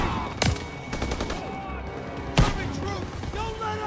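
German machine gun fire in Call of Duty WWII, from MG nests in a barn during Operation Cobra: two sharp, loud bursts stand out among scattered gunfire and battle noise, with shouting voices mixed in.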